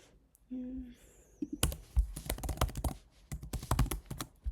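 Code is edited on a computer keyboard, producing close, brisk bursts of clicky typing in quick clusters with short pauses, preceded by a brief faint tone and a few soft clicks.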